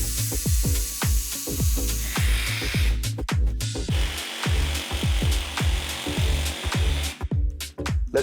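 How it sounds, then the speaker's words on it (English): A cordless jigsaw cuts click vinyl flooring on a construction site with rapid, rhythmic chattering strokes, loud and close, and short pauses and shifts in pitch as the blade works through the plank. "But on the construction site, cordless jigsaw, quite practical."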